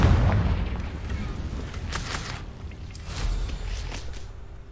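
A Confringo fire spell explosion in Hogwarts Legacy, a deep rumbling blast up front followed by crackling bursts and a fading tail, fairly loud and close.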